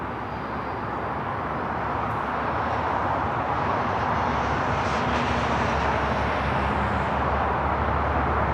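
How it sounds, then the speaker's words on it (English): An Aeromexico Dreamliner jet takes off from runway 24 left at LAX, a steady distant engine roar that swells slightly, heard alone without talk. "On the north side, the flight back to Mexico City, Aeromexico Dreamliner, taking off 24 left."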